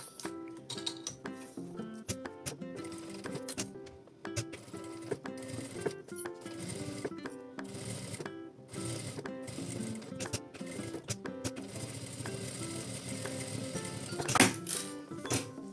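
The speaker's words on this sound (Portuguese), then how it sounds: "passo uma costura bem na pontinha aqui e outra costura bem na pontinha do outro lado" A sewing machine stitches along the edge of fabric for a zippered cosmetic case with a clear window, running in a steady, fairly quiet mechanical whir with small pauses.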